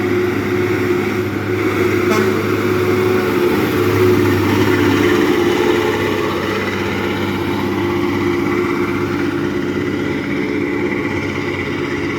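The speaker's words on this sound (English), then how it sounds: "engine sound like it have a little misfire in it though" A truck engine with a slight misfire runs with a steady, rough low drone, holding an even pitch throughout with slight unevenness in its rhythm and no talking.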